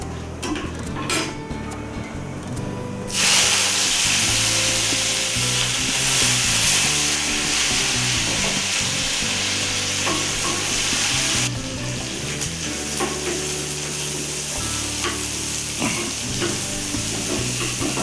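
Urad dal, curry leaves and onion hit hot oil with mustard seeds, setting off a loud, dense sizzle that swells suddenly and holds steady, with clinks of a spoon against the pan underneath.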